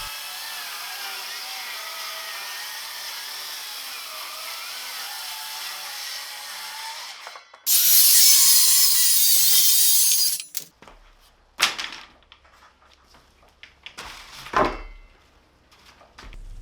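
Ridgid cordless circular saws, an Octane and an older brushless model, cut through wood. A sustained whine gives way to a louder burst of cutting, then wind-down and clattering knocks of wood and handling.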